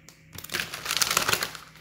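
Tarot cards are shuffled close by, a quick run of crisp papery riffles and flicks that starts after a brief pause and continues rapidly to the end.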